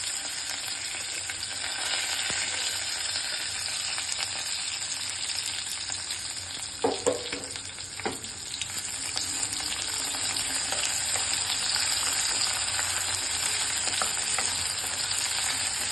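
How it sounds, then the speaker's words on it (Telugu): Onions sizzle steadily in hot oil with cloves, cinnamon, bay leaves and curry leaves for vegetable pulao, a continuous close crackling broken midway by a couple of stirring clatters. "సో ఆనియన్స్ అన్నీ గోల్డెన్ బ్రౌన్ కలర్లో వచ్చేంత వరకు ఫ్రై చేసుకోవాలి."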